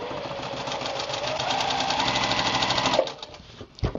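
A domestic sewing machine runs steadily, stitching a row onto a pieced quilt block, with a fast even needle chatter that stops abruptly, followed by a couple of soft handling knocks.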